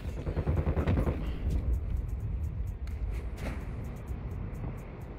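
Rapid bursts of gunfire in the Warzone 2 video game crackle over a dense, rumbling game background, with sharp shots clustered in irregular volleys at moderate loudness and no clear speech.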